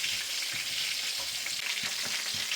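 Chicken pieces frying in hot oil, a loud, steady sizzle and crackle with occasional low clinks of stirring beneath, and no voices.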